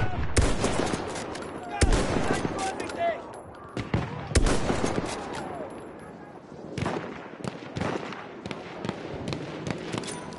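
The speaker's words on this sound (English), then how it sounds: "Feindliches MG" Enemy machine gun fire in the World War I shooter Battlefield 1, loud rattling bursts and single cracks repeating across the whole stretch amid dense battlefield noise, with an occasional voice underneath.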